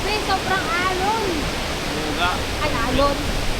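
Rushing water at Gorge Cataract roars as a loud, steady wash of noise, while people talk and exclaim over it.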